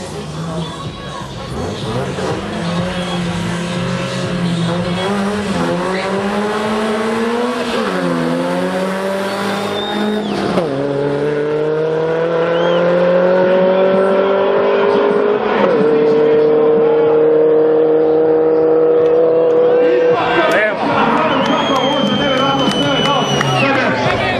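An Opel Kadett and a Mercedes AMG accelerate hard down a drag strip, engines roaring and climbing through gears with rising pitch, loud and close, while a commentator talks over them.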